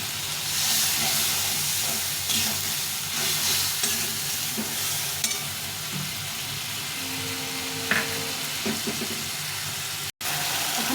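Spice masala for aloo dum frying in oil in a pan with a splash of water, giving a steady, close, dense sizzle and hiss with occasional stirring scrapes, briefly cut off near the end.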